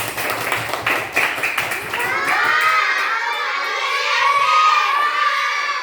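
Classroom of children clapping for a student group, a burst of rapid claps that swells into cheering and excited shouting from the kids.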